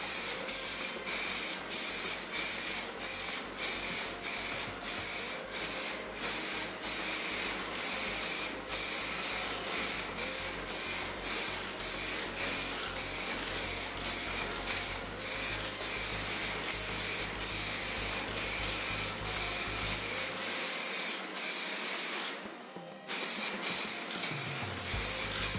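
Primer spray painted onto a Samick guitar body, a continuous loud hiss of spray lasting throughout, with brief pauses near the end.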